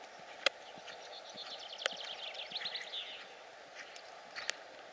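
Horse's hooves clip-clop at a trot on arena ground during a dressage-style riding lesson with a six-year-old horse, Ultrastar, steady rhythmic footfalls at moderate distance with faint bird chirps in the background.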